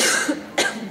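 A single person coughs twice close up, two short harsh bursts a fraction of a second apart during an interview.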